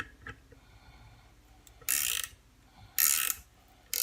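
Ratchet wrench driving a screw into a chunk of wood without pre-drilling, a few slow clicking turns followed by two bursts of loud fast ratcheting, close and alone.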